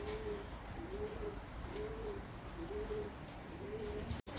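Domestic pigeons of the boğmacı and hünkar breeds coo in a steady rhythmic series of about five soft, low phrases, close by over a constant hum of background noise, with a brief click near the end.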